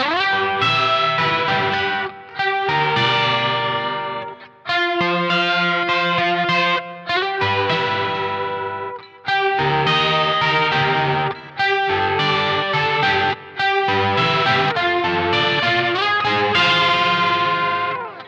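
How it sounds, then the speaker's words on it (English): Electric guitar chords through a Nux Verb Core Deluxe reverb pedal, drenched in a fast, swirling rotary-style chorus on the reverb tail, played steadily with short pauses between phrases. "the rotary sound, or the fast chorus sound, is only on the trail or the reverb"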